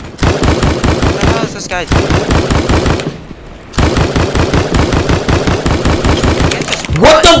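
Rapid automatic gunfire from the Roblox shooter Strucid, loud and near, in dense repeated bursts with a short pause midway, while a player talks over it.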